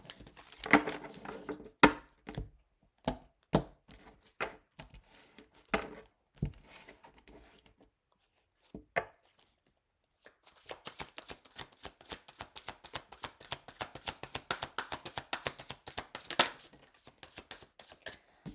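Tarot cards shuffled by hand in sparse, irregular riffs and taps, then a dense, steady run of crisp card flutter near the microphone in the second half, with no talking.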